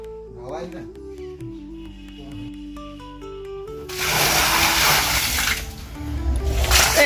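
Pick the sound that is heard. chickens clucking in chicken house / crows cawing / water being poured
water being poured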